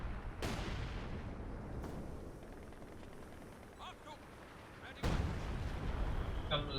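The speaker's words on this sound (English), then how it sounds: "Comes the 152mm artillery strike." A 152mm artillery strike in Company of Heroes 2 lands as heavy booming blasts over a dense, rumbling battlefield, with two sharp impacts standing out, and a voice talks underneath.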